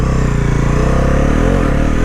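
A Bajaj Pulsar NS400Z motorcycle accelerates hard in first gear, its engine loud and close as the revs climb steadily with a rising harmonic drone.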